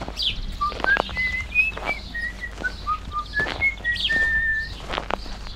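A man whistles a tune while strolling through a forest: a run of short, clear whistled notes rising and falling in a bright melody, close and fairly loud over a soft, rustling outdoor background.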